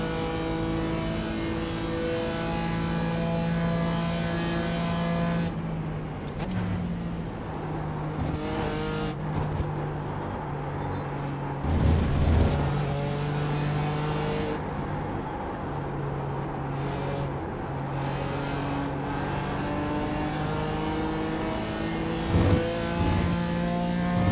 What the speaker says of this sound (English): please let me know if the engine audio is a bit too loud